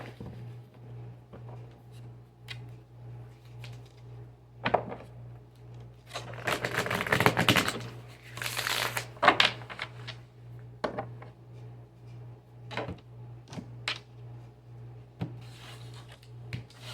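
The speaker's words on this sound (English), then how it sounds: "We'll do one more shuffle and then we're going to split the deck" A deck of tarot cards being shuffled by hand, soft rubbing and riffling with a dense burst of card flutter in the middle, close and quiet, with scattered lighter taps before and after.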